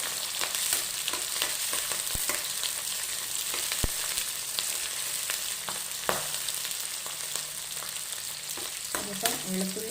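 Garlic, green chilies and bird's eye chilies fry in a pan with a steady, hissing sizzle, close and continuous, broken by occasional clicks and stirring scrapes.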